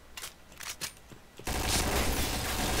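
A sustained burst of automatic gunfire in the Point Blank shooter game, loud and continuous, coming after several shorter, fainter shots.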